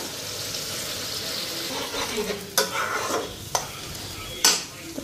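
Salt, turmeric and other ground spices frying in a hot pan with a soft steady sizzle, stirred now and then with a few sharp scrapes and clinks of a utensil against the pan.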